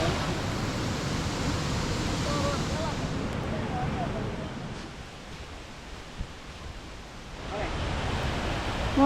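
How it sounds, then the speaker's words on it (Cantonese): A powerful waterfall at Oku-Nikko gives a broad, continuous roar of rushing water, loud and steady, easing slightly midway before swelling again. A voice is heard faintly over it. "呢個瀑布好澎湃啊"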